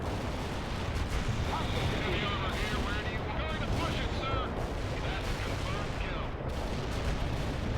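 Artillery fire support in World in Conflict, a continuous rumbling barrage of booming shell impacts and gunfire, with voices talking over the din throughout.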